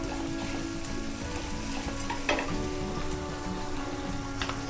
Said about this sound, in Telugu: ఇప్పుడు ఇందులో కొంచెం అంతా అల్లం ఎల్లిగడ్డ పేస్ట్ వేసుకుందాం వేసుకొని కలుపుకుందాం